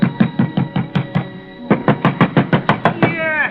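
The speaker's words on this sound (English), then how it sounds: "ringing his bell and pounding on his door got me nothing" A fist pounds on a door at an apartment in a radio drama, rapid loud knocks in two quick runs with a brief pause between, close and heavy.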